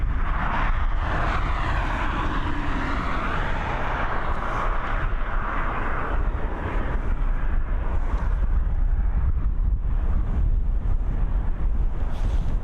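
An airliner takes off from Dublin Airport, its broad engine roar loud and steady throughout, rumbling with wind buffeting on the microphone and no voices over it.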